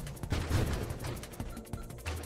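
Grenades fired from a ship in the space roguelike Nova Drift, a rapid run of sharp, punchy shots with rumbling impacts spaced fairly evenly, moderately quiet against game music.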